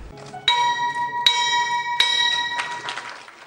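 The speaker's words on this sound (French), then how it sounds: "lorsque retentit le traditionnel son de cloche de la Bourse régionale des valeurs mobilières BRVM" The traditional opening bell of the BRVM regional stock exchange rings out in three clear strikes about a second apart, each leaving a bright, shimmering tone that hangs and overlaps with the next.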